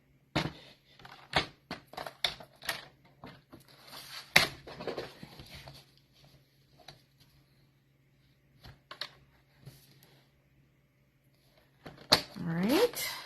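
Cardstock is trimmed to a three-inch strip while making a circle fun-fold card, giving a series of crisp, close cutting and sliding crunches in short bursts separated by quiet gaps, with a louder shuffle at the end.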